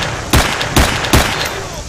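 Three loud, close gunshots from the video game STALKER, evenly spaced about half a second apart over a constant background rumble.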